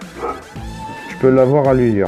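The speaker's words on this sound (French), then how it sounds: "Excusez-moi si vous entendez aboyer, c'est mon chien et il me saoule." A dog gives high, drawn-out yelps and whimpering barks close by, overlapping with someone talking.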